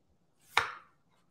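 A single sharp knife chop cuts through a potato on a cutting board, a crisp close thud with a brief tail, otherwise quiet.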